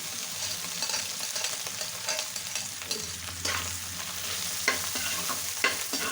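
Onion flowers being stirred and fried in a pan with crumbled boiled hilsa roe, a continuous close sizzle broken by scraping spatula strokes and occasional sharp clinks.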